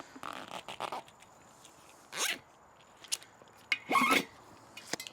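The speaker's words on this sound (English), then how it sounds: "Helps if you pull a little bit on the zip tie and get the tension." A zip tie is ratcheted tight on a motorcycle tire in a few quick zipping pulls, close and crisp, separated by short pauses with faint handling noise between.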